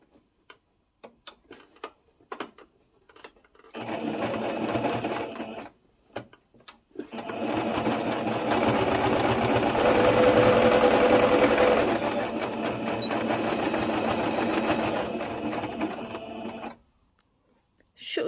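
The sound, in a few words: sewing machine stitching a pleated skirt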